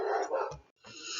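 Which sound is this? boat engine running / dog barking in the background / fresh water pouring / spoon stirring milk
dog barking in the background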